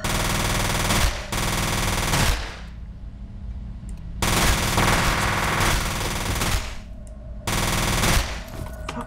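Bursts of rapid automatic machine gun fire in the video game F.E.A.R., loud and close, coming in several long volleys separated by short pauses, with no talking.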